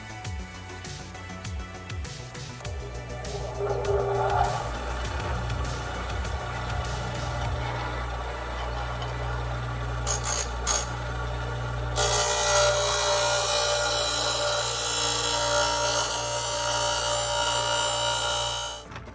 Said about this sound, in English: with the grinder, what I'm going to do is bevel these edges and try to get it as centered as possible